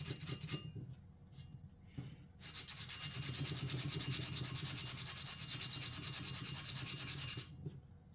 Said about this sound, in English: I like using this because it's got this stiff back that kind of maintains its attitude a little bit better than a piece of sandpaper would.